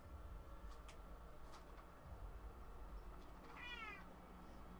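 A cat meows a few times, short calls followed by one longer, wavering meow near the end, faint against a low background rumble.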